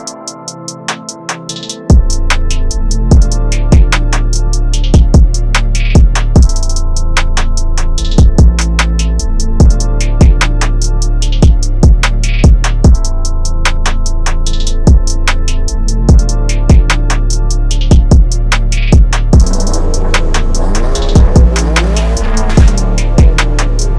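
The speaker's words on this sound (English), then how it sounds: "today we've got a Mark III Caddy with a Tfsi engine conversion" A Mark III VW Caddy with a converted TFSI engine revs hard and loud for a long stretch, its engine note rising and falling under repeated sharp pops and crackles, heard alone without talk.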